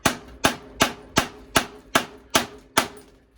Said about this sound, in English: I can hit with a hammer on the bottom of the stem, or a rubber mallet